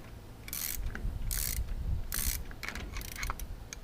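Ratcheting wrenches torque down a trailer jack being installed, giving several crisp bursts of rapid clicking at an even pace over a low rumble, close up.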